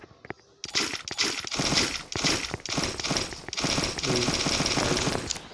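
Rapid bursts of gunfire from the Free Fire mobile game crackle in quick, repeated volleys with short gaps between, loud and close, after a few faint clicks at the start.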